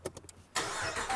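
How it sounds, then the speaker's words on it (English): A few cranking clicks, then the 5.7 HEMI V8 of a 2019 Ram 1500 pickup catches and roars to life, settling into a loud, rough idle close by. "I'm gonna start this up"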